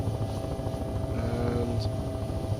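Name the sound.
helicopter engine throttling down in video game Take on Helicopters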